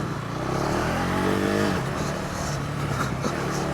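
A 2025 KTM 390 Adventure motorcycle being ridden, its single-cylinder engine droning steadily close by. The pitch climbs briefly, then drops back, over a constant rush of wind.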